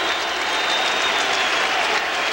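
Baseball stadium crowd at a Braves at Mets game, a dense, continuous wash of cheering and applause, loud and steady throughout with no clear pauses.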